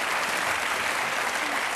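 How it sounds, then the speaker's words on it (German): A studio audience at a German television game show applauds. The clapping is dense and continuous, loud and close, filling the short stretch with no voices over it. "das ist kein Punkt, aber noch einen Applaus."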